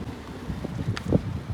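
Wind gusting outdoors near an open fire in Baku, a low, rough rumble of buffeting against the microphone that swells briefly near the end, with no speech.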